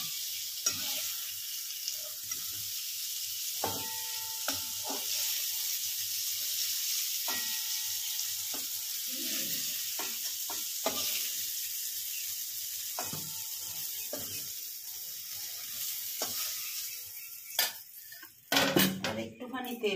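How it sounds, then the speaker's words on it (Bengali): Eggplant fries in hot oil with a constant sizzling hiss, punctuated by sharp clinks of a utensil against the pan and a burst of clattering near the end. "চলো বেগুনটা ভাজা হোক।"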